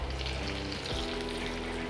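Sliced onions frying in coconut oil until brown for a Lakshadweep chicken biryani, giving a dense, continuous crackling sizzle that is close and steady throughout, with no voices.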